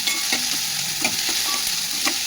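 Onions going into a pan for Maharashtrian pitla, frying with a steady sizzle and a few stirring scrapes at a regular rhythm, close and fairly loud, with no talking.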